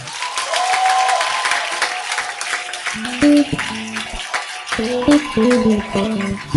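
Congregation at a church sermon bursting into sustained applause mixed with cheers and shouts, a dense roar of clapping hands throughout, with a few sung or sustained vocal tones rising above the crowd near the end.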